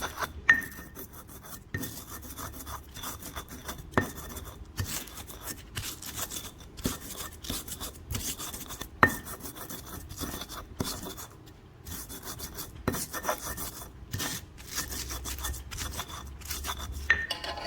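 Serundeng spices are ground to a paste for grated coconut and shredded beef, a close, steady gritty rasping and scraping that runs throughout with small clinks and knocks, no voices.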